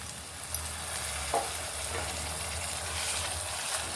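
Onions and tomato frying in a pan for nethallu pulusu, an anchovy curry, give a steady close sizzle with a few faint stirring scrapes and no voices.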